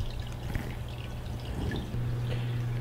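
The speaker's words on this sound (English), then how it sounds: "Moby, you're knocking water out of there before the minnow even hits." Water splashing in a bass pond tank as bass strike at minnows dropped in for feeding, with small drips and splashes over a steady low hum, close and moderately quiet.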